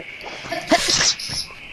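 A single short sneeze indoors, a sharp hissing burst that fades quickly, with faint background noise and no speech.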